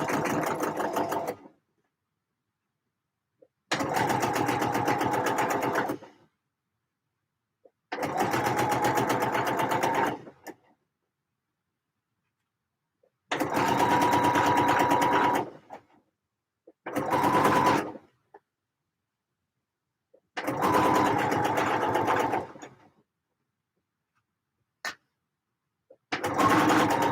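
Batch sewing dresses, a sewing machine runs in about seven distinct bursts of fast, steady stitching whir, each a couple of seconds long, with near-silent gaps between them.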